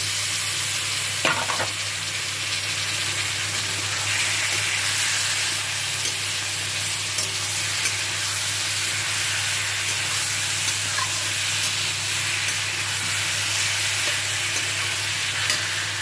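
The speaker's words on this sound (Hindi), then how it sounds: "अब मैं केला डालूंगी, जो कच्चे केले काटे थे, मसाला भून चुके हैं" Raw banana pieces tipped into hot oil and fried masala, giving a steady, loud sizzle with stirring that runs unbroken throughout, close up and without talk.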